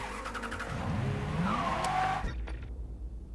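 A car in the video game Mafia 3 pulls away with tires squealing and skidding, engine revving under a rising whine, then cutting off abruptly into near silence after about two seconds.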